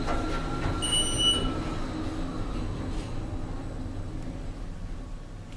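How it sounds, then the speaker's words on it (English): Continuous low mechanical drone of a service elevator's motor generator running in a Dover/Reading traction elevator installation in Reading, PA, with a brief high whine early on and faint clicks; no talking. "That motor generator you hear is from the service elevator."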